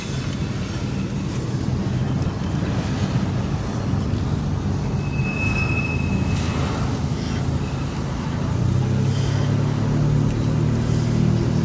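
A long, heavy rumble of a CSX freight train with six locomotives rolling past close by downtown, steady and loud throughout, with a brief high squeal partway through.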